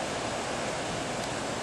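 The flooded Sheep River at Okotoks in 2011 rushes past in a steady, even roar of moving water, constant and unbroken throughout.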